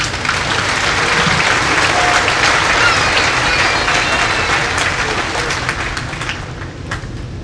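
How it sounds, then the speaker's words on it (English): Full audience applause for graduating seniors at a high school commencement ceremony, a continuous loud wash of clapping that eases slightly toward the end. "Let's give them a round of applause."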